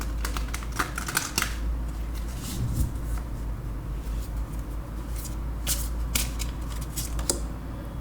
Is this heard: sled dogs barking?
no